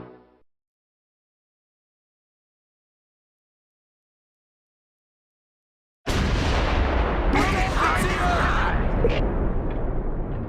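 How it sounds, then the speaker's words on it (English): Heavy gunfire and explosions from a World War II battle at Clerf in the Close Combat 4 strategy game, suddenly bursting in loud and dense after long silence and rumbling on continuously with overlapping blasts. "Auf uns wird geschossen!"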